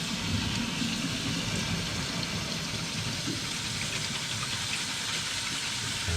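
Water sprays at high pressure in a constant, loud, broadband hiss onto broccoli sprouts in a stainless steel sprouter, with no pauses and no talking.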